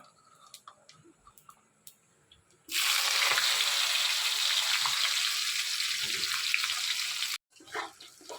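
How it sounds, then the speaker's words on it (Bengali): Banana pieces dropped into hot oil with bay leaves and radhuni seeds, a sudden loud sizzle that bursts in and holds steady for several seconds before cutting off, surrounded by quieter kitchen clatter. "এখানে হালকা হালকা করে একটু কলাটা ভেজে নিচ্ছি"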